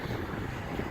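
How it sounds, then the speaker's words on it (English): Wind buffeting a microphone outdoors beside a 2018 Ram 1500 pickup, a steady rumbling roar that fills the whole second. "Sorry about the wind, by the way, but I can't control the weather"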